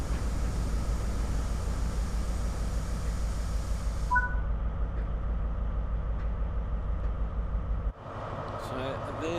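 An HST high-speed train arriving at Slough station in the Train Sim World game: a loud, steady low mechanical rumble and drone that cuts out abruptly, giving way to quieter ambience, with faint brief tones.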